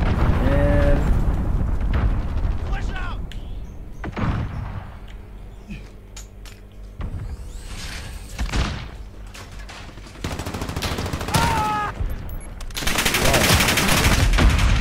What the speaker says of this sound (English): cruise missile launched.